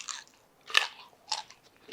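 Crisp bites and chewing on crispy smoked pork belly with salty crackling skin, three short crunchy bursts close up, separated by quiet pauses, with no talking.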